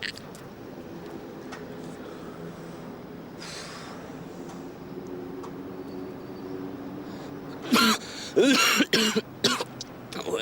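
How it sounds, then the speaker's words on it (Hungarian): A few abrupt coughs burst out near the end, close and loud, following a long stretch of low, murmuring background noise. "Köhögtél."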